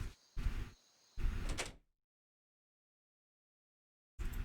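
An apartment door opens with a couple of short scraping, rattling bursts, followed by silence and then another brief noise at the end.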